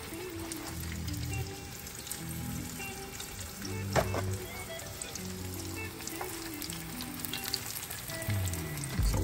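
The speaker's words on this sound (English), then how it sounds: "this is a shallow fry too" Crappie fillets shallow-fry in hot oil, a steady close crackling sizzle with scattered pops and spits that runs without talking.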